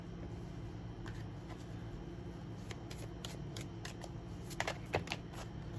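Tarot cards riffled and flicked during a shuffle, a few soft papery snaps and a quick flurry as cards spill out, faint and close over a steady background hum, without any talking.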